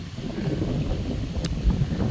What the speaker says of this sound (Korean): 지금 좀 바람이 세서 좀 바람 소리가 들리는데